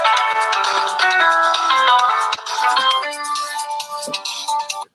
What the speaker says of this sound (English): That's your ringtone?